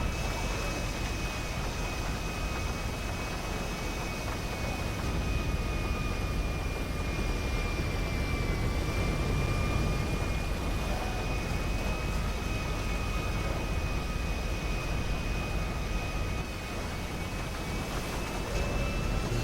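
A damaged airplane on a runway in the video game GTA makes a steady broadband engine roar with a faint high whine, continuous and unchanging throughout.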